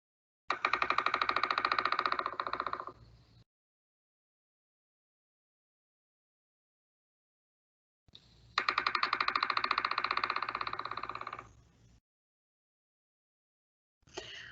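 A pileated woodpecker drums in two loud, rapid bursts about three seconds each, separated by long silence, with the start of a third at the end; each roll is a fast, even train of sharp knocks.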